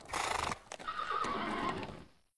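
A horse led in by a servant neighs loudly and close, a long shrill whinny with a second rising call and faint hoof clatter, no voices.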